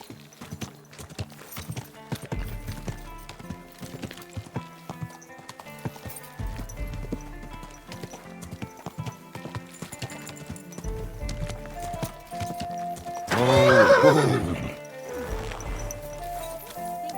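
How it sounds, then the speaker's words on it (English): Horse hooves clip-clopping with a neigh or whinny in the medieval game Kingdom Come: Deliverance II, steady hoofbeats throughout and a louder whinny near the end, amid ambient game sounds. "Easy, good horse."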